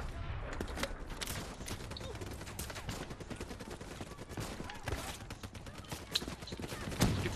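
Rapid gunfire in Call of Duty: Black Ops 3, played on the Realistic difficulty in story mode: dense automatic bursts and overlapping shots run steadily throughout, with a sharper, louder report near the end.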